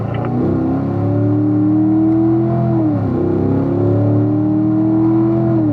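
A steady engine drone from race cars accelerating on the Ron Fellows Springhill track in Las Vegas rises and holds, with a brief dip and pitch shift midway as they shift up to fourth gear, loud and close with no talking.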